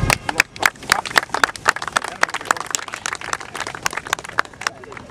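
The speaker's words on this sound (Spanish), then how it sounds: "nuevamente pues un aplauso para los participantes" A small audience at a regional physics olympiad claps for the participants, with distinct, sharp individual claps spread irregularly over a few seconds, fairly close and moderately loud, with faint room murmur behind.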